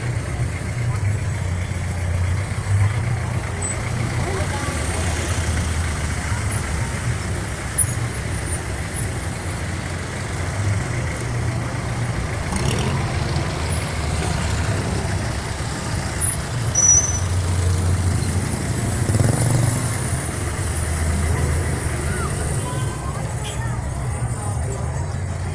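Busy street traffic during a town fiesta in Jaro, Iloilo, with cars and trucks rumbling past. A steady low engine drone and road noise continue throughout, with faint crowd babble in the background.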